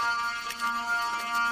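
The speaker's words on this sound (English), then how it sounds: "I'm not even annoyed at the alarm." An alarm rings steadily inside a building while police respond to a mass shooting, a continuous high electronic tone held at an even level throughout with no talking.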